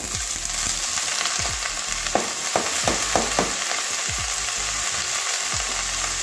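Washed cauliflower sizzles in hot oil with fried onions in a pan, a steady crackling hiss broken by several sharp scraping stirs of a spatula, close and with no voices.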